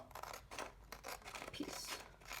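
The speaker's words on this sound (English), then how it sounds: "And then you just cut off this long rectangle" Scissors snip through a sheet of paper in several quick, close cuts, giving a faint rhythmic crisp rustle with no voices.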